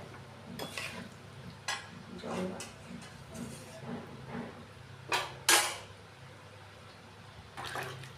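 A spoon stirs chili chicken gravy thickened with cornflour in a pan, giving irregular scrapes and metallic clinks at moderate distance, with a few sharper knocks near the end and someone talking in the background.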